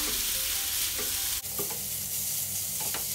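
Fried rice with oyster sauce sizzles in a hot pan while a utensil scrapes and stirs it in quick strokes, close and fairly loud, with no one speaking.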